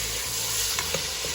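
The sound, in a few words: finely chopped chicken frying with onions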